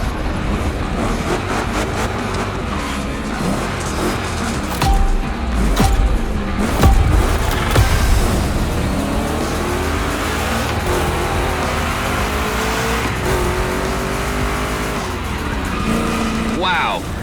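A Chevy 3100 pickup with a big block engine roars loud and continuous through a gymkhana run in The Crew Motorfest, the engine droning steadily with rising and falling revs and brief tire noise.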